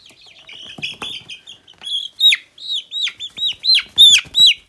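Young chickens with grown-up feathers coming in, chirping close by in a run of high, clear peeps that grow louder and more frequent toward the end.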